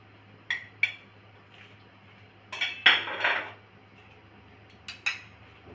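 A spoon clinks and scrapes against a bowl while mango pieces are stirred into an ice cream mixture, a few sharp taps followed by a short burst of scraping, close and otherwise quiet.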